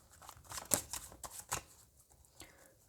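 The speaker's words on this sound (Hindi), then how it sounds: "final shuffle" Tarot cards are shuffled by hand in a few quick riffling bursts, close and fairly quiet, with no talking.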